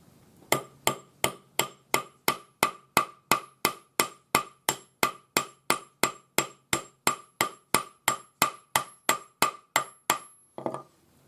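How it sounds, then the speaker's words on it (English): Metal wire being hammered into an oval bangle, struck without a rolling mill: about thirty evenly spaced, sharp ringing blows in a fast steady rhythm, close and loud, ending with a couple of softer knocks. "one of the reasons I'm hammering this is to show you how to do it without a rolling mill"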